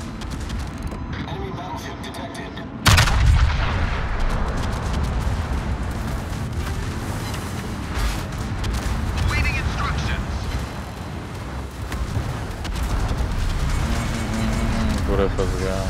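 Warship secondary battery guns firing in World of Warships, a dense barrage of booming blasts and rumbling explosions throughout, with someone talking over the game sound.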